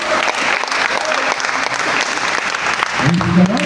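Renewed applause from a church congregation, a full roomy wash of many hands clapping steadily, with a voice starting to speak over it near the end.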